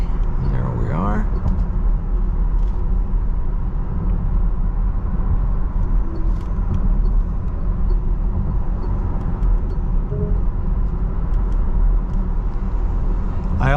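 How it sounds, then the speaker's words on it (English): Lucid electric car accelerating onto a freeway, a steady broadband road and motor rumble heard from inside the cabin that stays even and loud throughout, with people talking over it. "Good old Lucid power gets one onto the freeway."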